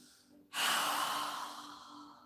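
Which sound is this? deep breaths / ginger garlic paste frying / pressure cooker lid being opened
deep breaths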